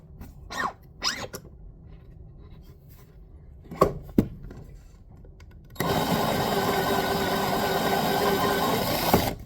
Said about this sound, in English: I'm going to trim a few more thousandths off of it.